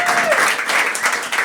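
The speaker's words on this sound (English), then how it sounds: "Please give them a round of applause." An audience in a small venue at a monthly booking meetup applauds in a brief, dense burst of clapping that stays fairly loud and even throughout, with a faint tone at the start.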